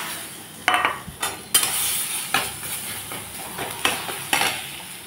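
Lentil paste fries in hot mustard oil in a wok under a steady sizzle, broken by repeated scraping stirs of a spatula against the pan, with no voices.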